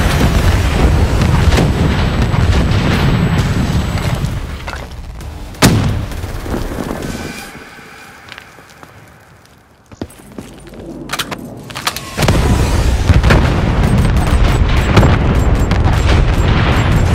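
Sustained explosions and gunfire from a UAV firing down in Call of Duty Black Ops III multiplayer: a dense, loud barrage of blasts that briefly drops to a quieter lull with a single sharp hit before resuming at full intensity.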